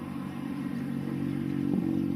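A Honda Vario 160 scooter on the road between Penampang and Kota Kinabalu, its engine holding a steady mid-pitched drone with wind rush and no change in revs.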